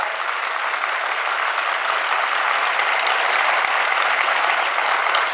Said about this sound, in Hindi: थोड़ी अच्छी तालियों का समर्थन करो कि आवाज अच्छे से जाए।